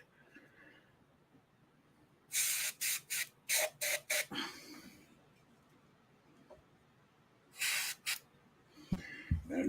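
Aerosol spray paint released in about six short hissing bursts, then two more after a pause, aimed into a tight spot to keep overspray down; loud and close, with faint background noise between bursts.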